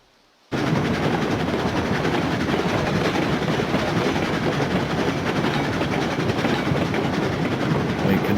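A train in the Railroads Online game on the Tofte and Lake Superior line, with throttle set to 25%, starts up after a brief quiet moment and then rumbles steadily and loudly with continuous rolling noise.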